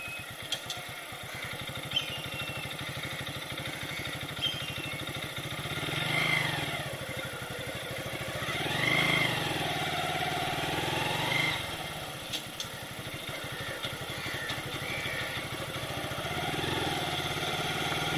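A motorcycle engine runs steadily in second gear at about 30 km/h, making a loud, fairly constant drone with a few gentle swells of revving and no talking.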